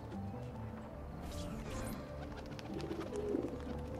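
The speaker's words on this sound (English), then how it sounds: "So here's the pigeon coop." Pigeons coo around a coop in the game Assassin's Creed 2, soft repeated calls sitting low in a steady bed of ambient game sound and background noise.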